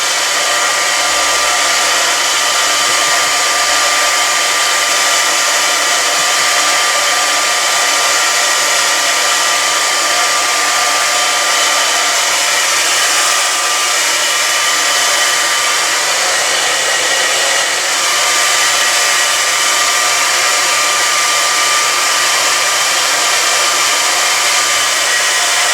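A steady, loud hair dryer roar continues without a break as a new short-corded blow dryer dries hair after a cut, the airflow hiss unchanging throughout and no voices over it.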